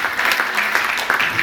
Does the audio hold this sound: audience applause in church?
yes